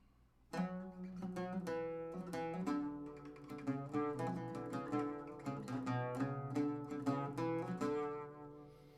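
An oud plays short, ornamented melodic phrases in makam rast, a steady stream of plucked notes with quick runs and repeated tones, close and clear with no talking.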